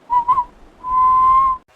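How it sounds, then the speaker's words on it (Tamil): A person whistles nearby, two quick short notes followed by one long, steady sustained tone, clear and loud with no talking. "நீ விசில் அடிப்ப, நான் திரும்புவேன்."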